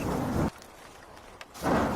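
Rain falls in a Hindi cartoon about a pregnant bird, a dense hiss that comes in two loud bursts with a near-silent gap between them, and no voices over it.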